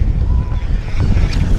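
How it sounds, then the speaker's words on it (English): Strong wind buffets the microphone on Guntersville Lake, a steady low roar with water lapping faintly underneath, loud and continuous throughout. "Very, very much windy."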